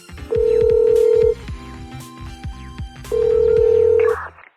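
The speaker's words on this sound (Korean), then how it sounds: "미호가 알려준 번호로 전화를 걸었다." A phone call rings in the video game Blue Archive, two long electronic ring tones with a pause between them, loud and close over soft game background music, with no talking.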